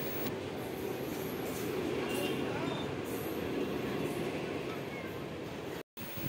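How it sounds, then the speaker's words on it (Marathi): A Mumbai local train running from Borivali to Bhayandar, heard from inside the carriage as a steady, loud rumble of wheels and rattling with faint high squeals, continuous until a brief dropout near the end. "तर आता आपण बोरिवलीवरून ट्रेन पकडलेली आहे आणि आता आपण चाललो आहे भाईंदरला।"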